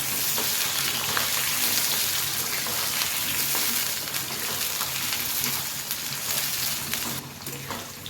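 Potatoes fry in hot mustard oil in a wok with a loud, steady sizzle and crackle that carries on throughout, no one speaking.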